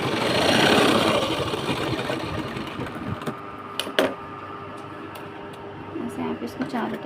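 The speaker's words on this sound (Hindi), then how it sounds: "इसको हम चारों तरफ से सिल लेंगे।" A sewing machine stitches around the edges of an 8-inch-wide piece of fabric for a large handbag. The motor whirs loudly at first, then gives way to quieter intermittent clicks and short bursts, with a voice heard briefly near the end.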